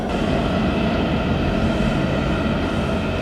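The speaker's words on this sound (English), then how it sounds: "I'm trying not to talk because there's a train going by again." A train passes nearby with a steady, loud rumbling roar and rail noise that fills the whole stretch without letting up, and nobody speaks over it.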